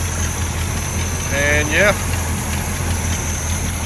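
Old square-body pickup truck engine idling, a steady low hum throughout, with someone briefly speaking over it partway through.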